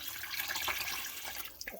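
Water pours steadily into a pot for cooking basmati rice, a soft continuous splashing rush heard close and fairly quiet, ending with a few brief drips.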